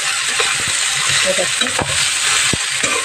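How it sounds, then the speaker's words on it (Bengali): Sliced okra hits hot oil in a pan and sizzles loudly and continuously up close, with occasional clicks and scrapes of stirring. "এবার এটাতে আমি দিয়ে দেবো এই যে আমার কেটে রাখা ছিল ভেন্ডি"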